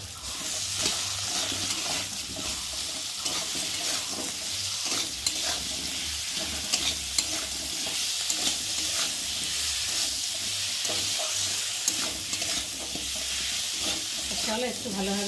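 Spice paste of garlic, ginger and cumin, with turmeric and chilli powder, sautéed in a pan, producing a loud continuous sizzle with repeated spatula scrapes and stirring strokes throughout.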